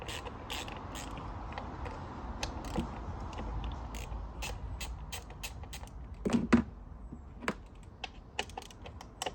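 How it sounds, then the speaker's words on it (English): A ratchet clicks in quick irregular bursts while undoing coil pack bolts on a Ford Fiesta, close and fairly quiet, with scattered metallic taps throughout. "The noise of the coil pack bolts is already filling me with fucking depression."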